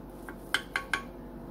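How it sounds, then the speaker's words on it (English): Cheesecake brownies in a baking pan being cut, with three sharp metallic clinks of a utensil against the pan spaced evenly over about half a second, fairly close and clear with no talking. "I'm going to cut into it again"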